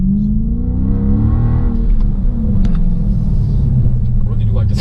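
A Ford Mustang EcoBoost engine revs and rumbles steadily up close, a rising rev in the first couple of seconds settling into a constant loud drone.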